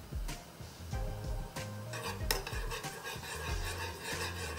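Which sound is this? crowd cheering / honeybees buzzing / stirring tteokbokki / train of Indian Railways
stirring tteokbokki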